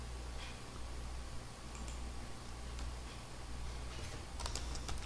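Keys tapped on a computer keyboard while a message is entered into an industrial controller (WEG Clic 02) editor, a quiet, irregular run of light clicks over a steady low hum.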